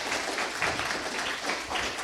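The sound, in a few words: conference audience applause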